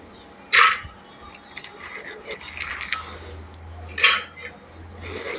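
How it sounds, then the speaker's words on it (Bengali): Soaked raw chickpeas drop into a pressure cooker pot holding potatoes in two brief clattering bursts a few seconds apart, with faint kitchen clinks between them. "বেশ কিছুটা কাঁচা ছোলাও দিয়ে দিচ্ছি"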